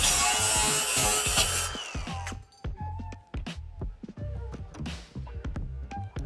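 A power tool cuts a part during a brake caliper install on a Cadillac CTS, with a harsh, loud grinding whine for the first two seconds, then uneven clicks, knocks and rattles of handling nearby.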